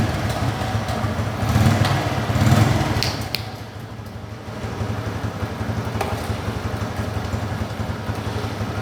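Motorcycle engine running steadily during a service competency test in a workshop, a continuous mid-pitched idle with a brief swell of revs early on, close and fairly loud, without speech.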